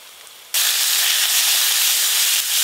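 A ground paste of ginger, cumin and chili hits hot oil with onion and tomato for a fish curry, bursting into a sudden loud, steady sizzle that holds close and continuous.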